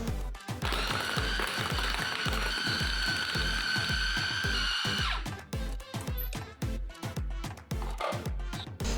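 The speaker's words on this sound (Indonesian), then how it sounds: "Blender lagi hingga merata dan halus." Kitchen blender whirring loudly as it grinds beef meatball dough with ice cubes, a steady motor whine with a rapid rhythmic chopping thump throughout, the pitch dropping as the mixture thickens.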